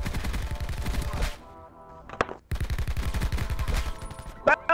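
Rapid automatic fire from the Peacekeeper rifle with Afterlife camo in a first-person shooter, loud close bursts of quick regular shots, a brief pause with a single crack, then another long burst and a few clipped shots at the end.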